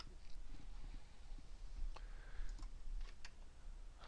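Quiet keystrokes on a computer keyboard while typing in an Excel spreadsheet, a soft irregular patter of clicks with a few slightly sharper taps, faint and close.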